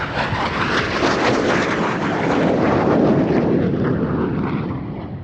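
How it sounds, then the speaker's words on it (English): Red Arrows jets roar overhead during a display at the Midlands Air Festival. The engines make a loud, sustained, broadband roar that swells and slowly fades as the aircraft pass, with wind noise across the microphone. "Each aircraft running hard now to 5 to 6G"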